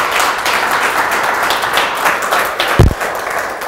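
A studio audience at a TV singing show applauds steadily for the production staff, a dense, even wash of clapping from the room with one louder thump near the end.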